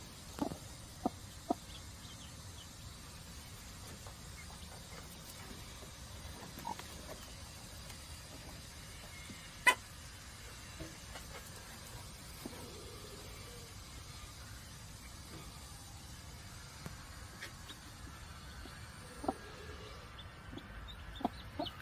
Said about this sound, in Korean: 우리 청개가 방금 병아리를 깠어요